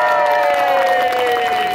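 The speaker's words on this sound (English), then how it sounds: "Clap for the pretty girls." A crowd at an acrobat show at the Sarasota Medieval Faire in 2016 claps and cheers in a steady, close, continuous wash, with shouts and whistles rising above it.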